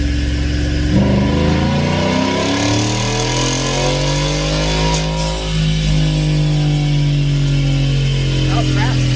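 A Ford F150 pickup with a gen 3 Champ stamp and 10R80 automatic transmission runs on a dyno in fourth gear with a short air filter and the hood shut, its engine droning and rising steadily in pitch, loud and continuous, while a voice talks briefly.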